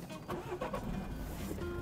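A car engine is started and settles into a steady idle inside the cabin, heard close up at the beginning of a driving lesson on a warm day.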